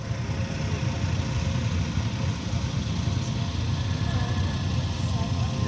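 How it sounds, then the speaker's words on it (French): Several motorcycles idling to warm up on a freezing winter morning at a -13°C bivouac, a steady, rough low-pitched rumble that runs unbroken throughout, with faint background noise. "Une fois la moto de Greg démarrée, on allume toutes les autres sans souci."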